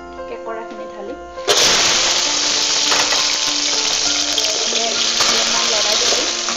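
Crab poured into hot mustard oil in a wok sets off a sudden loud burst of sizzling that stays intense and spattering throughout, while a voice talks over it and faint music plays.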